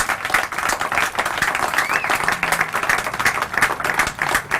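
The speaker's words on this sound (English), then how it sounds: "So David Gallo, another round of applause." A crowd claps and applauds steadily at an apartment complex ribbon cutting ceremony in Southampton, a dense, even burst of hand claps lasting several seconds.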